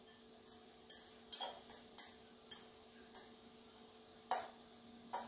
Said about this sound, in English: Give it a nice mix around.